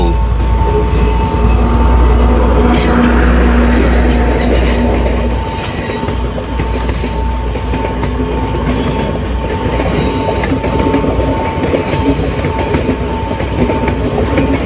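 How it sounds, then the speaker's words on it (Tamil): A train rumbles past on the rails in Sri Lanka, loud and close, with steady clattering wheels and some metallic squeal throughout. "பைக்கில் வந்து இப்படி ட்ரெயின் போகிறத பார்க்குறது"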